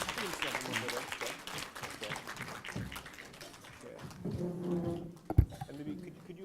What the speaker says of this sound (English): maybe if we could have one more round of applause and also congratulations for the Honorable Master Junhong Lu